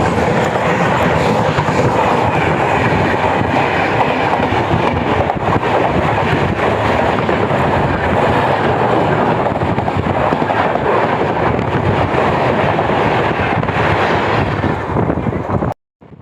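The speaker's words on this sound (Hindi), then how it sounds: "देखिए सामने से आ रही है जामनगर इंटरसिटी, जामनगर वडोदरा इंटरसिटी" The Jamnagar–Vadodara Intercity train rushes past, loud and close, with a steady roar, rail clatter and wind buffeting throughout before it cuts off abruptly.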